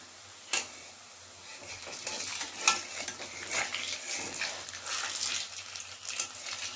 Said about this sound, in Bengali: বড়াগুলো আমি সব ছেড়ে দিয়েছি আর আঁচটাকে কমিয়ে দিয়েছি